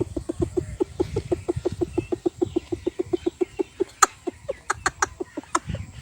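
A voice imitates a mother hen clucking to teach her chicks to eat: a rapid, steady run of short clucks, close and clear, ending with a few sharper higher calls.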